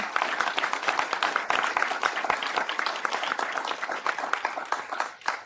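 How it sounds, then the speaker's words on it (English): Audience applause at a city council meeting, a steady round of many hands clapping throughout, fairly loud in the room, fading slightly at the end. "Let's give her another round of applause."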